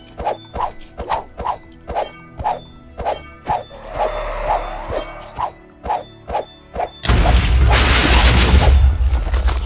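A Minecraft modpack boss fight, the Purple Flame King, opens with a fast run of sharp, evenly spaced in-game hits. It ends in a loud, roaring explosion that fills the last couple of seconds.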